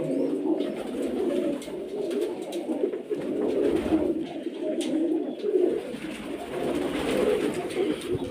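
Pigeons cooing repeatedly in soft, low rolling calls, several birds close by, with faint background noise and no talking.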